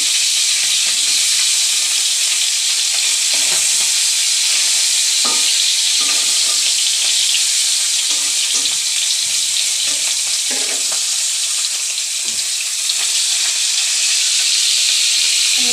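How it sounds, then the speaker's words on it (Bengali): Parshe fish fry lightly in hot oil in a pan, a loud, continuous sizzle and hiss with occasional small crackles and pops, close and unbroken throughout. "আমি চেষ્টা করবো সবগুলো মাছ হালকাভাবে ভেজে নিয়ে নেওয়ার"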